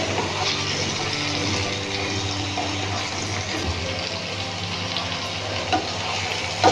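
Eggplant with spices frying for a fish curry over low heat, a steady close sizzle with occasional stirring scrapes running under the whole stretch, no speech.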